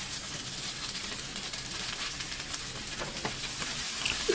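Zucchini stir-frying in hot oil with ginger slices, a constant close sizzling hiss with light shuffling from stirring throughout, and no voices.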